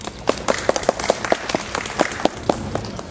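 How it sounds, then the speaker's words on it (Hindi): A few people clap in a fairly regular rhythm, distinct close claps standing out over a thin background of scattered applause. "तालियां।"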